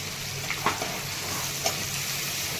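Garlic, ginger, coconut, curry leaves and a little turmeric fry in hot oil for a ridged gourd dish, a steady close sizzle with a couple of soft stirring clinks.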